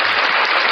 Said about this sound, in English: That's a welcome clap